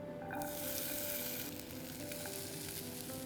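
Diced potatoes sautéing in hot oil in a pan over high heat, a continuous close sizzle and crackle with a brief stirring scrape near the start.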